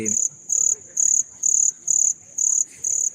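An unidentified insect calls in regular pulsed bursts, about seven evenly spaced high chirping trills repeating steadily, fairly loud and close with no talk over it.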